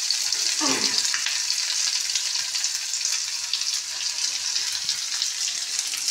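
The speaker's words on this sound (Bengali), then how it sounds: "পেঁয়াজ আর এই যে রসুন টমেটো সব দিয়ে দিচ্ছি একসাথে, মাছটাকে একটু সাইড করে রেখে।" Onion, garlic and tomato fry with fish in a pan, an even, bright sizzle throughout, with a brief splash as ingredients go in near the start and soft stirring, no talking.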